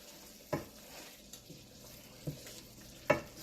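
A spoon stirs mutton biriyani in a pot with plenty of oil and fat, giving a few scraping knocks against the pot over a soft sizzle, each distinct and close.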